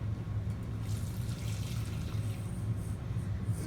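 Hot milk poured into a pan of béchamel sauce, a steady close liquid trickle with a continuous low hum of kitchen background underneath.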